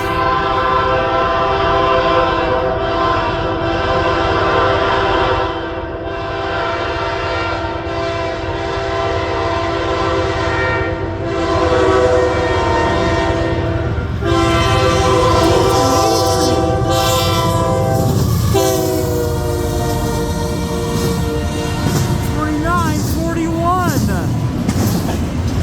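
A CN freight train led by a C6M rebuild locomotive passes at Ladysmith, Wisconsin, its horn sounding long, loud, multi-tone blasts over rumbling, clattering rail noise, with people talking nearby.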